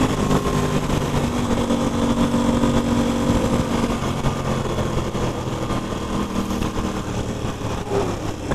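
An Aprilia RS660 sport motorcycle engine runs steadily and loud throughout, a continuous mid-to-high engine drone with slight pitch shifts while riding on rough back roads, with no talking.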